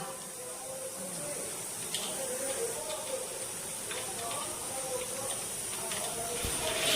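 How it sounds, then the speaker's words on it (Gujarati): Dal tempering (vaghar) sizzles in a pan with a continuous, fairly soft hissing crackle that runs unbroken throughout, with a few faint clicks above it. "અહીંયા બની રહી છે દાળ ને દાળનો વઘાર થાય છે મસ્ત મજાનો"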